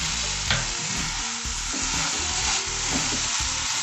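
Condensed milk stirred into semiya pudding in a pan on low heat, a dense steady bubbling hiss with muffled scraping stir strokes throughout, close and even.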